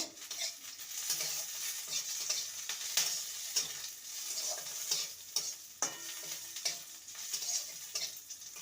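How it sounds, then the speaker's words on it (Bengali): Curry leaves frying with onions in a pan, a quiet close crackle and sizzle broken by repeated clinks and scrapes of a stirring spoon, no talk. "এবারে দিয়ে দেবো কারি পাতা কারি পাতাকে ভেজে নেব"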